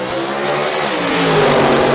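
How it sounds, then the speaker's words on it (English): Two drag racing cars at Maryland International Dragway rev their engines together at the start line, a loud, steady, rising engine howl filling the whole moment with no talk. "both guys starting to get up on the RPMs, going at the same time"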